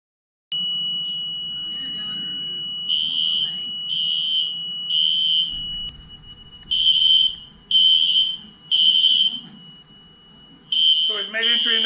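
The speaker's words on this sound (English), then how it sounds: "We have an obvious fire alarm going off." A building fire alarm triggered from a manual pull station sounds in repeated loud pulsed electronic tones in a steady cadence, with a person talking underneath and more voices at the end.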